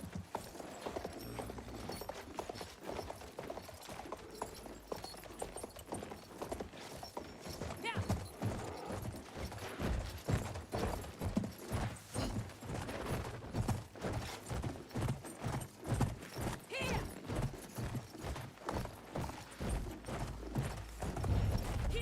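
Horses gallop in a video game, rapid hoofbeats that start light and grow into a loud, dense drumming, with a brief whinny heard now and then.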